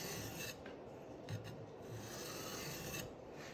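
Knife blade being sharpened with light passes on a sharpening stone: faint, steady raspy scraping strokes, soft and close, with brief pauses between passes.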